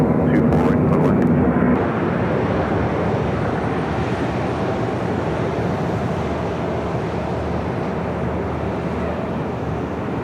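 A jet airliner at Los Angeles LAX airport, an A350 on its takeoff run, rumbles as a loud broadband roar that holds steady and near, after a brief burst of radio chatter at the start.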